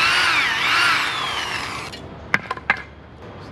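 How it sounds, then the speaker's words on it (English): A power drill whines at high speed on a drilling station, pitch wavering as it bites into a battery conversion part for an M923A2 military truck, then stops, followed by a few sharp knocks and clatters. "And right about here is where we need a hole for that centerpiece. Drilling station set up here."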